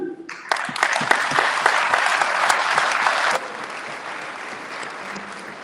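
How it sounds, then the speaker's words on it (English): Sustained audience applause fills the room at a speech, loud and dense, then drops abruptly to a quieter patter of scattered clapping for the last couple of seconds. "Please, I know you've clapped for her."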